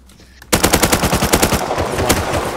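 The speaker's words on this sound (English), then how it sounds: "Oh, I got an SMG." Rapid bursts of SMG fire in the survival game Rust, loud and close, with a string of sharp shots fired in quick succession and no talking.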